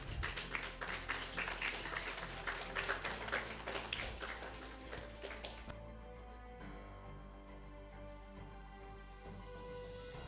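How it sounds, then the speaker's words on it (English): Audience applause at a national women's awards ceremony in India: a crowd claps in a burst of sharp, dense claps for several seconds, then the clapping fades out into a quieter room hum. "Please give a big round of applause."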